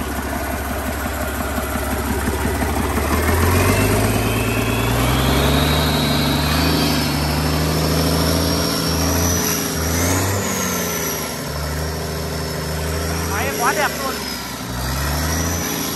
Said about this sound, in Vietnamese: Máy nổ quá, không có một tí khói nào nhá.